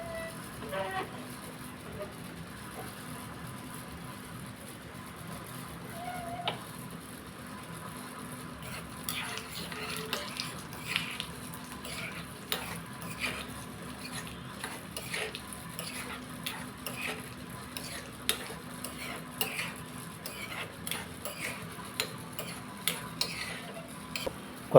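Chana dal fries in oil in a pan under a soft, continuous sizzle, and from mid-clip a spoon scrapes and taps the pan in a quick, irregular rhythm.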